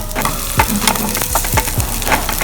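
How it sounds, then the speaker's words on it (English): Chopped onions drop into hot oil for a pork blood stew and fry with a steady, loud sizzle, broken by a few sharp stirring knocks against the pan. "Damn, a bit of that hot oil, brother. Onions in."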